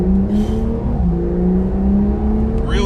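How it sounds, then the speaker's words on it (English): C8 Corvette pulling away hard from a stop sign, a loud sustained engine roar heard from up close with a brief dip at a gear change before the note climbs again. "I just want to see how the car gets off the line here."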